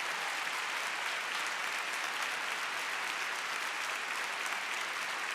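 Dense, continuous applause from a crowd, a steady wash of clapping hands heard at a distance and fairly faint, with no breaks and no voices standing out over it.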